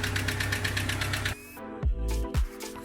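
A 1976 Datsun 620 engine runs with a rapid, steady ticking knock from the top end, like a diesel, then shuts off and leaves a few clunks and a fading rumble.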